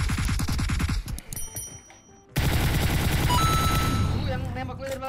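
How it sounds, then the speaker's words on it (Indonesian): Automatic gunfire in PUBG Mobile, rapid bursts of shots in a fast rhythm that pause briefly, then come back loud and dense for the rest of the clip. "Yang nembak gue dari belakang tuh"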